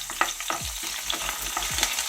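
Green chillies and curry leaves frying in hot oil, a close crackling sizzle punctuated by a quick run of spatter pops and stirring taps.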